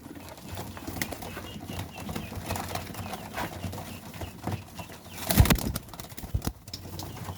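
Pigeons packed into a small loft coo softly and flap their wings, with a burst of louder wing beats partway through against low background rustling.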